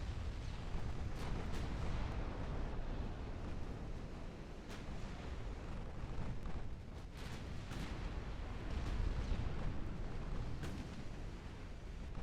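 Naval gunfire and explosions during a heavy battleship fight in Ultimate Admiral Dreadnoughts, a dense, continuous rumble with sharp bursts of cannon fire scattered throughout and no talking.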